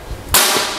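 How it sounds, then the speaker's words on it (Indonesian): One sharp crack of an FX UX2 air rifle firing nearby, a sudden snap followed by a brief hissy tail, with nothing else around it. "Satu kali tembakan"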